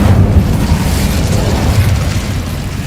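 A loud, rumbling whoosh of a magical Incendio fire spell, a sustained burst of roaring flame that fills the whole moment without any voices.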